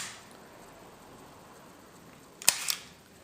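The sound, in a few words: camera shutter held open on bulb setting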